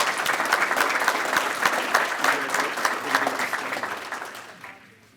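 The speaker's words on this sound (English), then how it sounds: "let's give Mackenzie a huge round of applause" Sustained applause from an audience at a Kiwanis Club scholarship awards event honoring a recipient, a dense steady wash of clapping that holds strong before fading out at the end.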